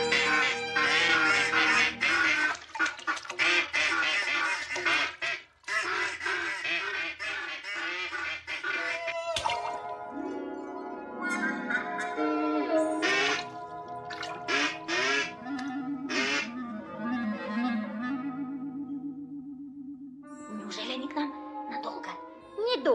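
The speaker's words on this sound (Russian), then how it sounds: "Все утки летят на юг" A flock of ducks quacks loudly and repeatedly close by, the rapid calls overlapping almost continuously, with other voices mixed in among them.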